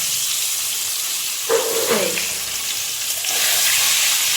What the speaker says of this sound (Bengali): তো আলুগুলো জাস্ট ভেজে নিই